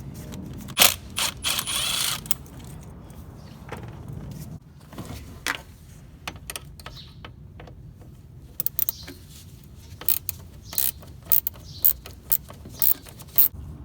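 A ratchet with a 7mm socket loosens bolts on the charge air pipe of a Ford F-150 3.5L EcoBoost, with short bursts of close metallic clicking broken by pauses and scattered tool clatter in a garage.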